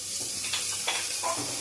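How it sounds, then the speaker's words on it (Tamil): Carrots and beans sautéing lightly in oil in a pan, a steady soft sizzle with faint stirring scrapes across a short stretch, no voices. "லைட்டாக அப்படியே ஆயிலே சாட்டே பண்ணுங்க."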